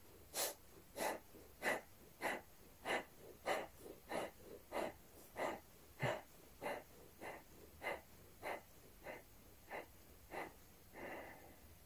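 Rapid, forceful exhalations through the nose in a Taoist breathing exercise focused on the lower belly, about eighteen sharp puffs in a steady rhythm, close and fairly loud, gradually softening toward the end.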